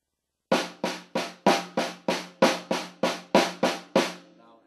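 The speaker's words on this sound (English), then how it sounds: "practice single strokes in triplet form" Twelve crisp drum single strokes in even triplet rhythm, each hit ringing briefly before the next, played alone with a short decay at the end.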